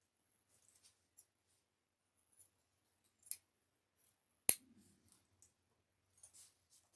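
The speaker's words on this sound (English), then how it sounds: "you want to go around and just trim any excess lining that's hanging out" Scissors trim excess lining from a sewn bag in a quiet room, with a few soft sparse snips and one sharper click midway.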